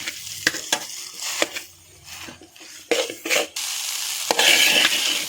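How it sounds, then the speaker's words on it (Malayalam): Chicken noodles stirred and tossed in a hot pan, with scraping utensil strokes and clinks over a sizzling fry that swells louder toward the end, no speech. "നമുക്കിതൊന്ന് നന്നായിട്ട് മിക്സ് ചെയ്തെടുക്കാം."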